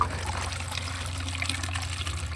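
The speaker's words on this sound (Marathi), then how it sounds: "चला आता ह्या बॉटलमध्ये पाणी भरून नेऊ" Water poured into a plastic bottle, a continuous close trickle with a low hollow gurgle, steady for a couple of seconds and free of speech.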